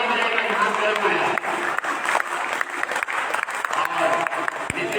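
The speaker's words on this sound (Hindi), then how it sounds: "राजयोग शिविर के लिए ताली बजाइए" A crowd at a Rajyoga camp breaks into sustained, dense applause, loud and close, holding steady throughout with a voice talking over the clapping.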